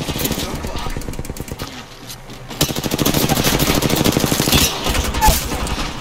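Sustained automatic gunfire rattles through a fast Apex Legends firefight, near and loud, with a brief dip in the middle before the rapid shots resume and continue to the end.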